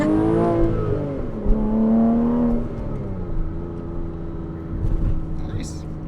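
A Porsche Cayman S 987 with a newly fitted aftermarket exhaust that still has a small leak revs up close by, its tone climbing and holding, then settling as the engine winds back down, with voices talking over it.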